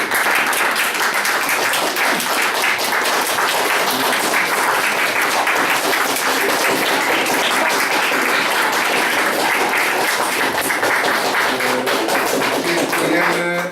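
A room full of people at a Lenten retreat gathering gives steady, dense applause for the dumpling makers, a loud, continuous wash of clapping that holds evenly for its whole length without fading.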